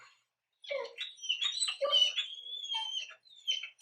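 A frightened dog whimpering in a series of high, thin whines and squeaky cries, close by and fairly continuous after a short silence, with no talking over it.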